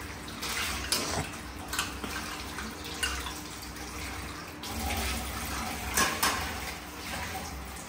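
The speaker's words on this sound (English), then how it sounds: "Washing out some water." Water runs from a tap into a cooking pot in a home kitchen, a steady close splashing with occasional clanks of the pot, moderately quiet and without talk.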